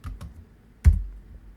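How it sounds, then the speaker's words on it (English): A few sharp keypresses on a computer keyboard: two light clicks close together, then a pause and one louder, heavier thump, close and alone with no talking. "I'm going to press B on the keyboard"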